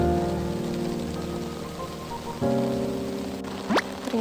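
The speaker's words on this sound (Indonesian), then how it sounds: "Ternyata juga hujannya makin deras juga." Heavy rain falls steadily in a hillside area of Tawangmangu, Karanganyar, as a constant broad hiss under other tonal background sounds, with one brief rising sound near the end.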